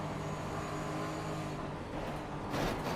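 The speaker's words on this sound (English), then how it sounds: "hearing that shunt to the side of the car" Race car contact shunt in iRacing during a GT4 race at Zolder, with a steady engine drone and a louder burst of impact noise near the end, no talking.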